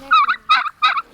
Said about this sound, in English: Oh, hey, turkeys.